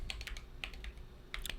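Typing on a computer keyboard while installing Gentoo Linux, heard as soft, irregular clusters of key clicks in quick bursts with short pauses, close and fairly quiet, with no talk.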